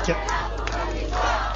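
A swimming event crowd roars and cheers for the team's swimmers, a dense, loud, continuous wash of voices with a few brief shouts rising out of it.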